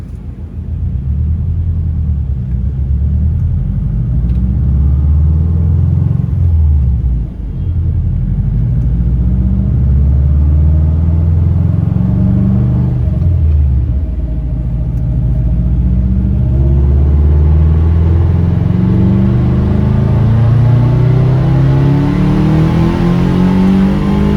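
A car engine on a dyno is held under load and revved through a long pull, a loud, close, continuous roar whose pitch climbs steadily and eases slightly near the middle before rising again, with no voices.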